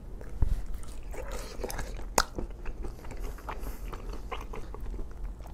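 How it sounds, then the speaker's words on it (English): Cheese-dipped bacon being bitten and chewed close up, with crunchy bites and moist chewing in an irregular rhythm and no talking. "Let me just eat this bacon, actually."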